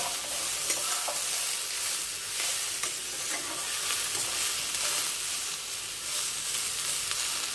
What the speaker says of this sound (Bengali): ভাজা হোক ততক্ষণ।